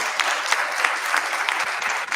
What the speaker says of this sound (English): Can we have a huge round of applause for the panelists?